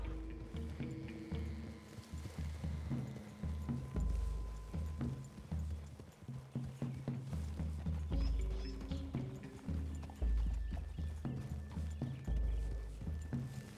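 Horses trot with steady clip-clop hoofbeats and an occasional whinny in a Red Dead Redemption 2 game scene, the hooves faint and continuous across the stretch.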